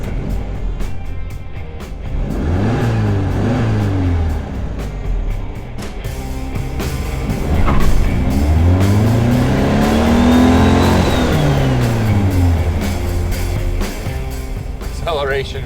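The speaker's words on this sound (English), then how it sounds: "Let's do some acceleration here and see what kind of performance we actually have out of this as it sits" A 1965 VW Beetle accelerating through its gears from inside the cabin, the air-cooled engine droning and rising in pitch, dropping at each shift and climbing again, loud and close, with someone talking over it.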